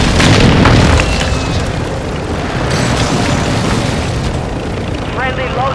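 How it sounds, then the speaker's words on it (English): Heavy, rumbling explosions from a precision airstrike in Call of Duty: Modern Warfare II, loudest at the start and then a sustained roar of blasts. A voice briefly speaks over them. "Friendly precision airstrike inbound."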